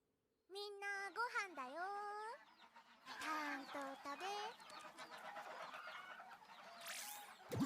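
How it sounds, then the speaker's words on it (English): Chickens cluck and squawk in an anime scene, a string of close, rising and falling bird calls with a short gap, then busier overlapping clucks and a bright flutter at the end. "did that fly out from in between the chickens?"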